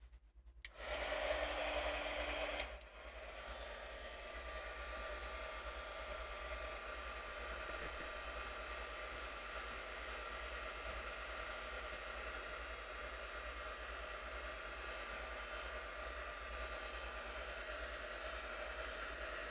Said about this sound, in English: Let's try the heat gun.